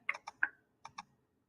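Computer keyboard and mouse clicking at a desk: a quick burst of three crisp clicks, a short pause, then two more, all quiet and close with no voices.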